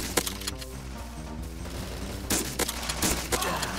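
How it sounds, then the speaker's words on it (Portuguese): Rapid bursts of gunfire in the video game Bullet Force crack over a steady background hum, several shots in quick succession, fairly loud and close. "Tiro comendo solto."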